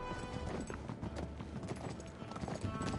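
Horse galloping in the video game Uncharted 3, a steady run of hoof clip-clops under a busy mix of game noise and a voice talking, fairly loud throughout.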